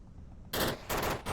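Heavy automatic gunfire in Onward, the VR shooter, lays down suppressing fire in two dense loud bursts after a moment of quiet.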